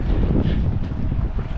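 Wind blows hard at a camper wash spot, buffeting the microphone with loud, gusty low rumbling at close range.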